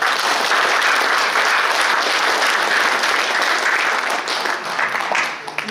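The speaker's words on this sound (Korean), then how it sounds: "최 회장을 위해서 큰 박수 한번 해주시기 바랍니다" A hall full of people at an inauguration ceremony for an association president breaks into loud, sustained applause, the dense clapping holding strong before tapering slightly at the end.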